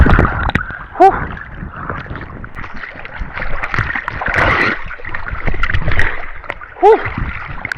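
Water splashing and sloshing from swimming in the sea in Marlborough, with rhythmic strokes and gurgles, two louder splashes standing out, and a voice occasionally heard.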